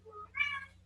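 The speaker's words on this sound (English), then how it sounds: "My cat's trying to climb in my purse." A house cat gives a single short meow, rising and bright, close by and fairly quiet against a low steady hum in an indoor room.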